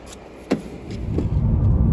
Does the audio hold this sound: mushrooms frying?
no